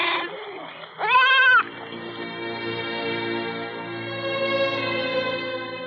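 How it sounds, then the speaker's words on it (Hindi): A goat gives one loud, wavering bleat up close, followed by quieter, sustained bleating and droning tones in the background. "अरे बकरियां हटाओ, जल्दी हटाओ।"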